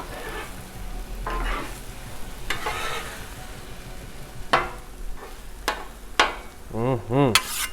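Breakfast crunchwrap filling sizzles on a hot Blackstone griddle while a metal spatula scrapes and taps the steel surface in repeated sharp strokes, and a voice briefly sounds near the end.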